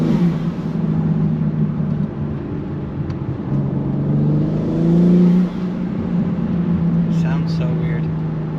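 BMW M3 with a BMS intake, the engine droning and rising in pitch as the car accelerates, heard from inside the cabin at steady loudness, with a voice talking over it.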